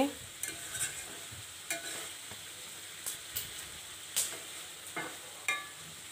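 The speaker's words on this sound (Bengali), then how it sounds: "মাংসটা খুব ভালোভাবে কষানো হয়ে গেছে। তেল ছেড়ে ছেড়ে আসছে মাংসের গায়ে থেকে।" Meat being stirred and fried in oil in a pan, slow-cooked in Bengali style, with soft continuous sizzling under spaced scraping strokes of a spoon every second or so, close and fairly quiet.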